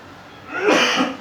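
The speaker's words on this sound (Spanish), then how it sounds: "Perdónenme, tengo un poco de tos" A single short cough from a man preaching in Spanish, a close, harsh burst rising and fading within about a second.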